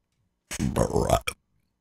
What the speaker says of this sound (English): there's that burp.